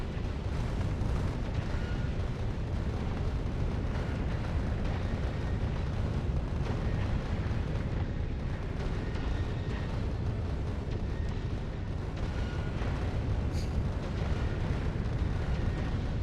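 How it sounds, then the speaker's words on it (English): Explosive rockets detonate in Factorio: Space Age, giving a dense, continuous barrage of booming blasts and bursts with no break, loud and rumbling throughout. "explosive rockets are way better than I thought"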